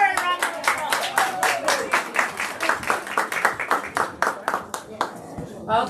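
An audience at a volunteer award ceremony applauds a speaker being welcomed, steady dense clapping from many hands with a voice talking over it, the applause thinning toward the end.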